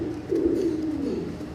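Large pigeons coo close by, one soft throaty rolling call swelling and fading over a low background hum.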